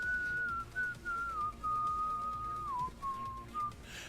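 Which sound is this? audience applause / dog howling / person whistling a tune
person whistling a tune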